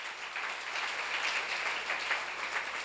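Church congregation at a seminar breaks into brief applause, a steady wash of clapping from many hands in a large room, with no talking over it.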